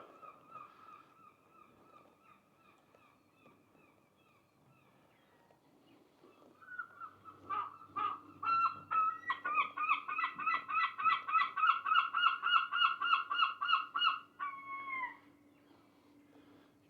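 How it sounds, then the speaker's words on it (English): Seagulls call at a harbour in Mevagissey, at first a few faint distant cries, then a loud, close run of rapid repeated squawking calls lasting several seconds before trailing off. "Hello, Mr. Seagull."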